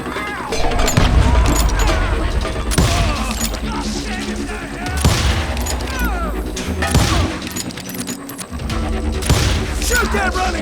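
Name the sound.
gunfire from Call of Juarez Gunslinger video game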